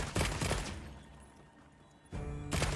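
A heavy bowgun fires in Monster Hunter Wilds: a dense burst of rapid shots, then a quieter lull, then another loud rattling volley at the end.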